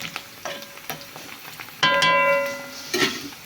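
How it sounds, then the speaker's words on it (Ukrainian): Onion frying in a pan for a lenten soup, a soft crackling sizzle with some stirring clatter and scraping, moderately close, no talking. "смажемо цибульку."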